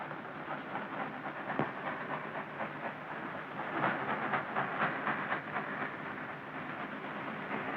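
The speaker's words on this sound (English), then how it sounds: "What are we waiting for? The second train." A train passes on rails with a steady, fairly loud rumble and irregular metallic clatter that swells slightly midway through, and no voices are heard.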